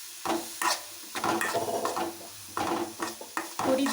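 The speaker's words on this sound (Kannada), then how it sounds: "ರುಚಿಗೆ ತಕ್ಕಷ್ಟು ಉಪ್ಪು, 1 ಟೇಬಲ್ ಸ್ಪೂನ್ ಅಚ್ಚ ಪುಡಿ ಮತ್ತು ಮ್ಯಾಗಿ ಮಸಾಲ ಹಾಕಿ ಚೆನ್ನಾಗಿ ಹುರಿಯಬೇಕು" Maggi noodles stir-fried in a pan with salt, chili powder and Maggi masala, a utensil scraping and stirring in uneven strokes over a soft sizzle, close and clear.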